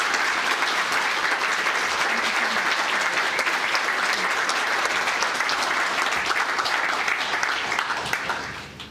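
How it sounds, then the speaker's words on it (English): A large crowd at an awards ceremony breaks into a long, loud round of applause, a dense wash of clapping that stays strong for about eight seconds before dropping away abruptly at the end. "please can we all give Wally another huge round of applause"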